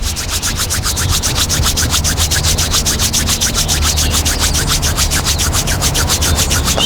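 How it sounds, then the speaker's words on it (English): Palms rubbing briskly together in steady rapid strokes, close and loud with no talking, during a breathing and neck-and-shoulder stretching routine. "Now just rubbing your hands."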